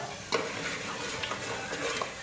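Paneer pieces fry in hot oil with masala in a home kitchen for a hotel-style masala paneer, giving a steady close sizzle with stirring and a few scrapes and clinks.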